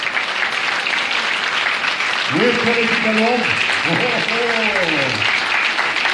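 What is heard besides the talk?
applause for the band's bass players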